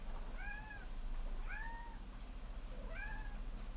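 A cat meows three times in slow succession, each a drawn-out rising-falling cry, moderately close over a constant low background hum.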